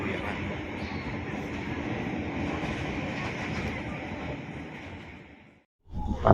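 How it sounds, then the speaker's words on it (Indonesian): Sri Tanjung passenger train rolling into Lempuyangan station, a steady loud rumble of wheels and carriages that fades out, a brief silence, then a burst of nearby noise. "Saat lagi kereta api Sri Tanjung masuk stasiun Lempuyangan."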